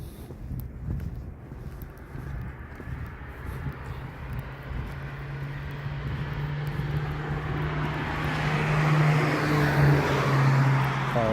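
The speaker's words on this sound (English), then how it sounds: "That car is going fast." At night on a street in Locust Grove, Georgia, a speeding car approaches from the distance, its engine and tyre roar building steadily from faint to fairly loud over several seconds.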